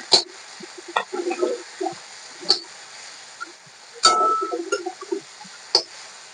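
A tomato drops into hot oil with fried potatoes and onion, followed by close spoon clinks and scrapes against the pan amid light sizzling, in irregular bursts with quiet gaps between.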